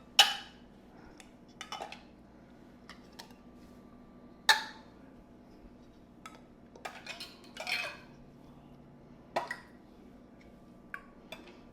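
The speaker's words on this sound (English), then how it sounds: "I also have my lids ready to go ahead and put on top." Metal lids set onto glass canning jars during pressure canning of dried beans: sparse, light clinks and taps at irregular intervals over a quiet room, with no talking.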